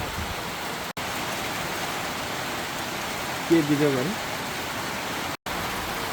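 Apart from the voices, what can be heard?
heavy rain pouring down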